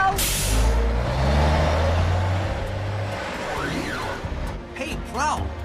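A cartoon tanker truck rumbles along at speed, a heavy low engine drone with a hiss, while voices talk over it and a rising electronic whine enters near the end.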